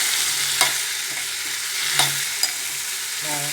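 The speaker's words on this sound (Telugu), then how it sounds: "బాగా కలుపుతాను." Dried fish curry with chili powder being stirred in a pan, a steady broadband sizzle with a few sharp spoon scrapes and clicks breaking through, close and alone with no talking.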